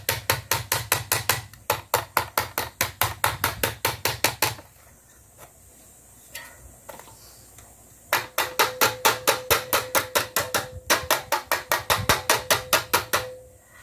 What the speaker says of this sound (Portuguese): vamos pregando por aqui até fechar lá o ciclo